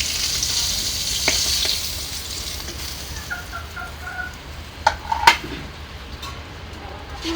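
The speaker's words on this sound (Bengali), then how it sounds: "এই মুরগিগুলো কেমন মারামারি লেগেছে দেখা একবার" Chickens scuffle in a village yard, with brief squawks and a few sharp flutters against a steady hissing background, moderately close.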